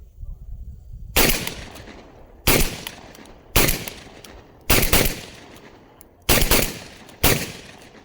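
A Mac 1014 and a Beretta 1301 shotgun fire six loud, close blasts, each sharp report followed by a short decay, spaced roughly a second apart in a steady string.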